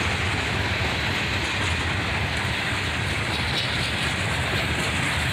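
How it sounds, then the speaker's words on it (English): A long CSX steel freight train led by a pair of EMD SD40-3 locomotives rolls past steadily, a continuous loud rumble and wheel noise with no break from start to end. "Another train led by EMD Power, another pair of SD-40-3s, originally built for the Louisville and Nashville"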